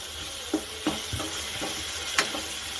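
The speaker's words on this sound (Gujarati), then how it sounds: "હવે તેને આપણે સારી રીતે બધા જ મસાલાને મિક્સ કરી લેવાના છે" Spices being stirred into a sponge gourd curry in a pan, with soft scraping strokes and a low background sizzle, a few louder spoon scrapes standing out.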